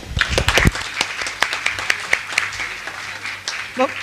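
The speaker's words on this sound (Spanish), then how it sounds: "un aplauso" Scattered audience applause at a university session, with distinct individual claps spread across a few seconds, thinning toward the end as a voice speaks over it.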